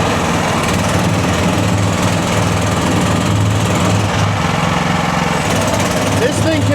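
A tracked mud buggy's engine runs steadily and loudly as the machine drives and turns, with a constant low drone and harsh mechanical rattle throughout.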